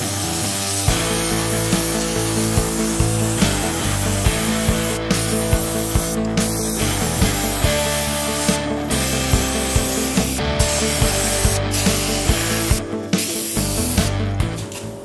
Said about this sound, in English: I filled it up with this blasting grit. So let's give it a shot.